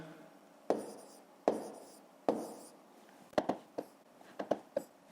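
Numbers being written by hand during a fifth-grade long-division lesson: a series of scratchy pen or chalk strokes, first three longer strokes, then quicker short taps and scribbles, close and alone.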